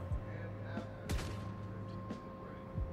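A few booming gunshots from the WoahBot video game, spaced irregular blasts with one sharper crack near the middle, over a steady humming game background.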